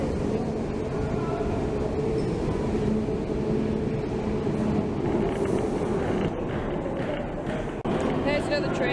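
A train stands at a railway station platform on the Sorrento line, with a steady rumbling, hissing engine drone and occasional metallic clanks filling the scene.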